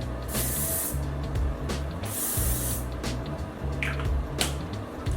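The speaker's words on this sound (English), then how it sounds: "I'm just going to use Ouai's heat protection spray." Two long, hissing bursts of Ouai heat protection hair spray mist close by, separated by a pause, over a low background hum.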